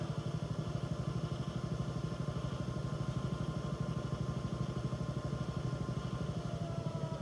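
A modified Leslie 825 rotating speaker's motor runs steadily at speed, a continuous low, throbbing mechanical drone with a fast, even pulsing flutter that stays constant throughout.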